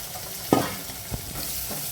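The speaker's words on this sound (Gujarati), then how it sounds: "ડુંગળીને બરોબર સાંતરી લેવાની, ઢાંકણ ઢાંકીને 5 થી 10 મિનિટ સુધી।" Chopped onions sauté in a pan for kanda poha, a steady close sizzle with a sharp stirring clack near the start and lighter scrapes afterward.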